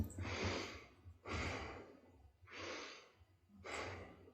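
A voice imitates heavy breathing: four long, rasping breaths in a steady rhythm, each a loud gasp-like inhale or exhale separated by short pauses.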